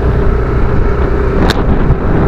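Strong wind buffets the microphone with a loud, continuous roar, a low rumble beneath and a brief sharp burst midway.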